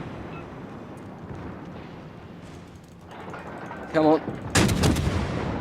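The USS Dallas's ship guns in the video game World of Warships fire in a couple of loud booming salvos near the end, preceded by a rumbling background, with a brief spoken remark.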